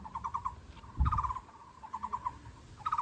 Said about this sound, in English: You can hear several. The 5 color birds.